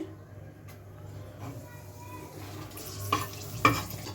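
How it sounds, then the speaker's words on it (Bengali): Two dried red chillies fry in hot oil in a pan, a steady low sizzle with stirring scrapes and a couple of sharper clinks near the end; a voice murmurs faintly beneath. "আগে আমি 2টো শুকনো লঙ্কা এর মধ্যে দিয়ে দিচ্ছি"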